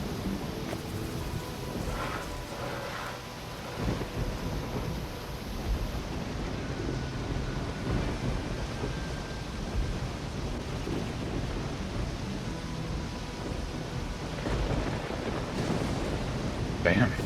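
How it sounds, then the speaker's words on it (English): Rain falls in the video game Risen as a low, steady hiss with faint gusty texture that runs evenly throughout, fairly quiet and without any distinct thunder claps. "Damn, still raining?"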